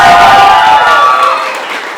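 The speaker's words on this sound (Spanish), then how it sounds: "Un aplauso para el Chivo" Audience at a live storytelling session applauds and cheers for a performer, a dense loud wash of clapping and crowd noise that gradually thins out over two seconds.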